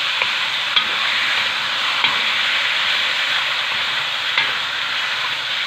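Chicharong bulaklak (ginabot) fries in its own rendered fat, producing a loud, dense, continuous sizzle with occasional faint clicks of stirring.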